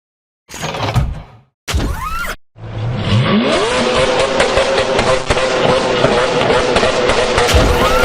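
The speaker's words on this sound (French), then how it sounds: "Une belle petite Seat Ibiza." A small Seat Ibiza hatchback revs loudly nearby in two short bursts, then accelerates away with a rising engine note that settles into a steady, sustained drone as the car drives on.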